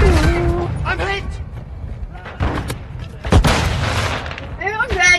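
A grenade goes off in a video game with a loud, close boom among scattered gunfire and thuds, while a voice talks over the action.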